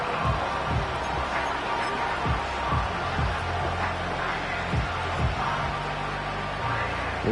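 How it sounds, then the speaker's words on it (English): Football stadium crowd roaring after a quarterback sack, a dense, sustained wall of noise that stays loud throughout, with scattered thumps and stray voices mixed in. "This crowd turning up the decibel level"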